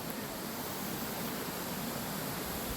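Strong flowing water rushes steadily at a campsite in early morning, a broad, even, close roar of water with no breaks and no voices.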